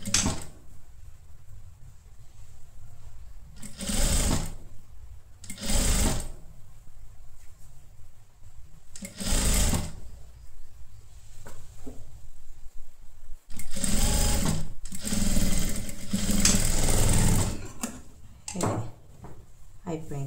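A sewing machine stitches a sleeve on a halter neck blouse in several short bursts of whirring, separated by pauses filled with talk.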